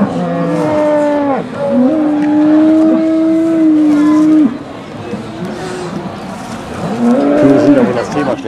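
Cows moo in long drawn-out calls, two sustained lowing calls close by followed by a shorter one, with farm background noise and no talk.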